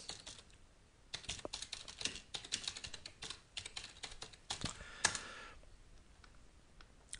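Someone types a place name on a computer keyboard: a quick, uneven run of close, crisp key clicks in bursts with brief pauses, fairly quiet and with no voices.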